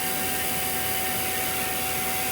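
A vacuum pump evacuates a walk-in freezer refrigeration system after a leak repair and new filter drier, producing a steady, dense mechanical whir with a constant tonal hum and no variation.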